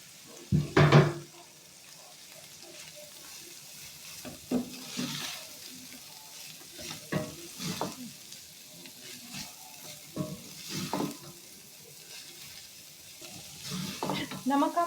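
Cabbage and mixed vegetables being sautéed in a pan produce a soft background sizzle broken by repeated scraping and stirring strokes of a spatula, fairly close but quiet, with faint murmured speech in places.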